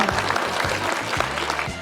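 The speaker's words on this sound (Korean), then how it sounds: "수상하신 학우님들에게 아낌없는 축하의 박수를 보내주십시오" Audience applause for award winners at a Korea National Open University cultural studies academic festival; a short burst of dense clapping from the crowd with a low hum beneath.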